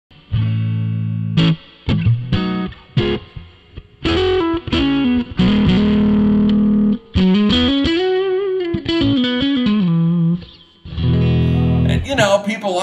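An electric guitar played through a vintage 1970s Traynor YSR-1 amplifier with reverb, giving a loud, distorted, chorus-tinged tone of sustained chords and single notes, with short pauses between phrases.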